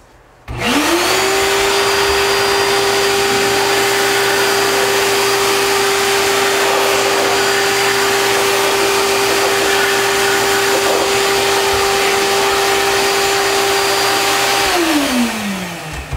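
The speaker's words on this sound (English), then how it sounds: "I'll stand this up, put the sander behind it, really make it dramatic." A power sander runs steadily for about fourteen seconds behind a wooden sign with inset letters, a loud continuous motor hum that spins up quickly, holds an even drone and then winds down.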